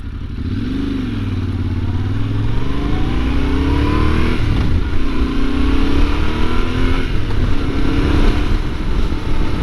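A Tenere 700 motorcycle engine with stock exhaust revs up and shifts through gears while riding around town, its deep exhaust note rising and falling in repeated pulls, loud and close.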